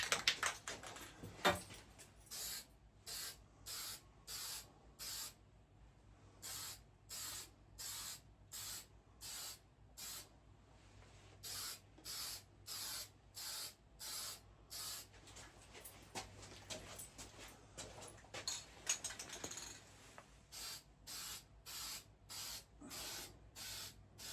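Short hissing bursts of spray paint lay a light, even coat on a firearm being restored, repeating in a steady rhythm of about thirty close, brief sprays separated by quiet gaps.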